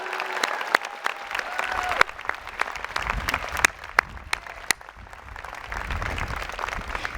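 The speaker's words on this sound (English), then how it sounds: "Let's have a special round of applause for these 2 extraordinary leaders." A dense, sustained wave of audience applause fills the hall at a 2017 university commencement ceremony for arts, sciences and engineering, loud and continuous with sharp individual claps poking through and a faint murmur of voices.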